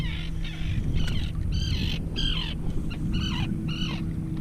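Birds call repeatedly in short, harsh, rising cries over open water, chasing bacon floating away from a flounder fishing spot, with a low steady engine-like drone underneath.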